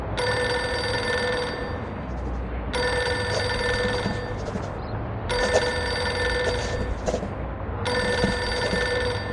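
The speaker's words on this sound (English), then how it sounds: "Pick up the phone already!" Old-style telephone bell in the video game Reverse: 1999, ringing in four long bursts with short pauses between them over a low ambient background.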